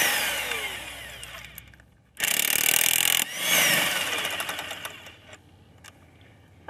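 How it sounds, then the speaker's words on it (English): A power tool removes lug nuts from a jacked-up 2002 Ford Ranger Edge wheel, loud and close in two sustained whirring bursts, with quieter mechanical clatter before and after. "now we remove the lug nuts."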